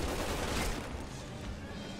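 Gunfire in Resident Evil 6 with a sniper present, a short burst of sharp reports in the first second that gives way to a rough crackling wash, fairly faint overall.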